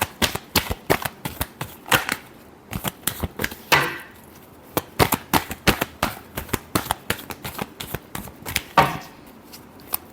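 Tarot cards being shuffled by hand in repeated quick riffling bursts, a crisp papery flutter with brief pauses between shuffles, close and fairly loud with no talking.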